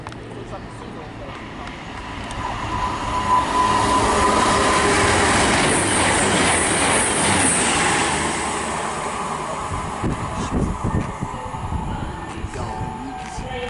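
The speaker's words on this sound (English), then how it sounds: "It's it looks like just one Virgin Trains 221." A single Virgin Trains Class 221 Bombardier unit passes through Nuneaton station on the West Coast Main Line, a rising rumble of wheels with rhythmic clatter and faint squeal that swells and fades, with voices talking over it.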